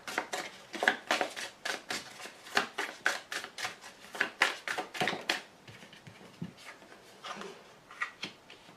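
Tarot cards handled during an Aries reading: a quick series of crisp taps, flicks and soft rustles as cards are shuffled and laid down, close and fairly quiet, with no one talking.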